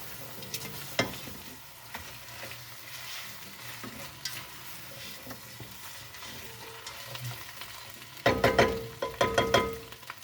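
Potatoes go into a pot for a hot soup and fry gently with a soft sizzle, broken by scattered clacks of stirring. A burst of louder scraping and clattering comes near the end.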